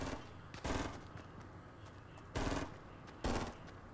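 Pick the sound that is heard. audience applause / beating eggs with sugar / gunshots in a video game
gunshots in a video game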